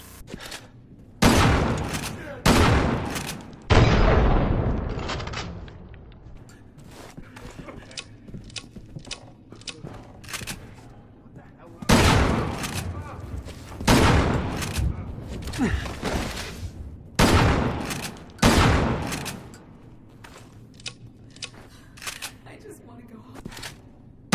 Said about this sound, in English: Alright, time to review the shotguns. The first one is just a plain-ass shotgun.